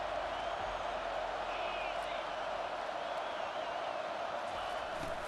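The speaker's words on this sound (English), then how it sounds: "This crowd, full throat, splitting the eardrums and letting them know it's going to be a long day." Roaring stadium crowd in the College Football 25 video game, during a Nebraska versus Washington online dynasty matchup, a steady loud wash of cheering that holds through the whole stretch with no pauses.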